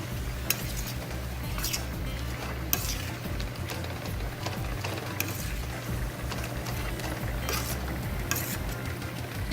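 Ground turkey with vegetables being stirred and cooked in a pan, a loud continuous sizzle with repeated scraping and clacking strokes over a low steady hum, no talking.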